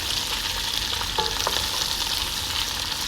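Fresh green dates fry in hot oil for a pickle, giving off a steady, loud, close sizzle with a few faint stirring scrapes in the middle and no speech.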